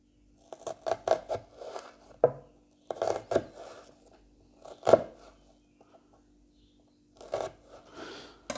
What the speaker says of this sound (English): Just run your knife like this and make slits.